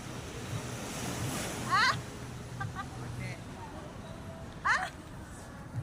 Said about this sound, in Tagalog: big wave! Big wave! Big wave!